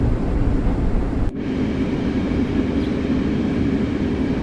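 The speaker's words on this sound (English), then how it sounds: "that train's still following us from behind." A Long Island Rail Road train rolls along the track nearby, a steady broadband rumble with a brief dip partway through, continuous and fairly loud with no talking.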